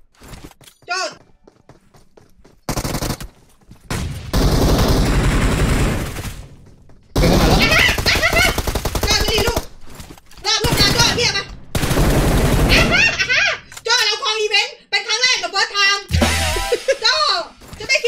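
Gunfire in the PUBG battle royale game, with bursts of automatic shots and single cracks coming in clusters between quiet gaps, with players talking excitedly over the action.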